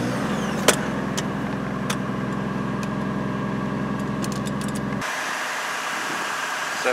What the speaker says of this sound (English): So let's go ahead and fire the truck up.